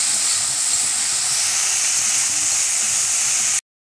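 Okra pieces frying in a pan, heard as a loud, steady, close hiss of sizzling oil that runs unbroken and then cuts off abruptly.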